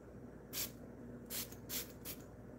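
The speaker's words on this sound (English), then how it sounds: "So Monique says to spray it." Four quick bursts of fine rose face mist spray close by, hissing briefly with short gaps between them against a quiet background.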